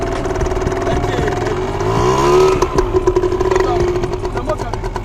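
A motorcycle engine revs up and settles while the rider shifts into second gear during a riding lesson, a close, steady mechanical drone with a rising rev in the middle and clattery pulses afterward.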